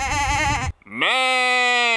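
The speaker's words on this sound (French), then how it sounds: "regarde les moutons, ils arrivent au courant" Sheep bleat out on open hillside, one strong, close bleat followed by a short pause and then a long, loud, sustained second bleat.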